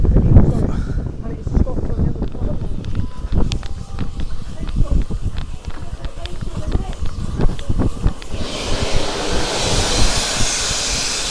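The Flying Scotsman, steam locomotive 6103, departs Wigan North Western station with a loud, continuous rumble and hiss, a bright surge of steam noise near the end, and excited voices talking over it.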